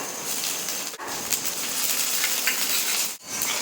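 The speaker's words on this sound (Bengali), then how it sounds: "তো এগুলো কিন্তু একটু ভেজে নেবো যাতে কাঁচা গন্ধটা চলে যায়" Onion, garlic paste and ginger paste fry in a pan, giving a steady, close hiss and crackle of sizzling oil with two short pauses where the sound briefly drops.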